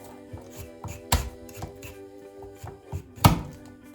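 A knife chops small garlic cloves on a board in a home kitchen, with a series of irregular close taps and two sharper, louder chops, and no voices.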